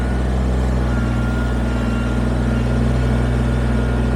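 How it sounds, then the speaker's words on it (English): A Kubota BX23S compact tractor's diesel engine runs steadily at a constant, loud, close-up drone while clearing logs on rural property, with no voices over it. "it's not a bulldozer, it's a tractor. It's a little tractor."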